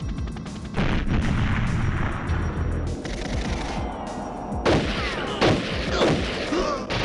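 A thrown grenade blows up in GoldenEye 007 aboard the Frigate. It lands as a few sharp booming blasts late in the clip over a dense, steady bed of gunfire and game noise.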